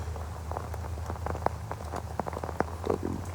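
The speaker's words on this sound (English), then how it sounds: "It's a moderate rain now." Moderate rain patters on a tarp outdoors under a small tree, a steady wash with scattered heavier drops tapping close by, with no talking.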